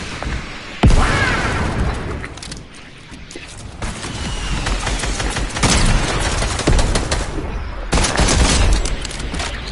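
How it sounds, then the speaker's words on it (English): Rapid video game gunfire and explosive booms from a rocket launcher, loud and dense, with sharp blasts near 1, 5.5 and 8 seconds over constant battle noise. "Rocket launcher!"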